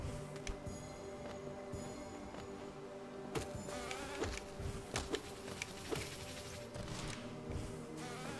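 Insect-like buzzing from bee enemies in the video game Hollow Knight, set in the Hive, layered with game music tones and punctuated by sharp hit and swipe impacts across the stretch.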